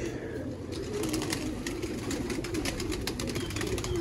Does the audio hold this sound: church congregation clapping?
no